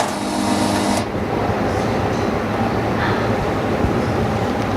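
A Jiutu OCA film laminator machine for iPad screen repair runs with a steady mechanical hum and whir, a brief higher hiss cutting off after the first second.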